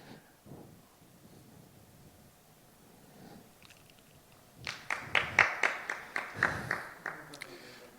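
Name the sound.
audience applause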